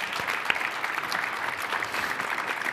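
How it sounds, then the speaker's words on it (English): An audience at a conference panel gives a round of applause, dense and even clapping from many hands that carries steadily through the moment, moderately loud. "How about a nice round of applause for Heather?"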